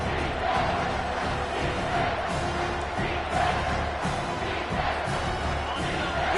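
A dense stadium crowd in a football video game roars steadily and loudly throughout, a continuous wash of cheering with no break or lull.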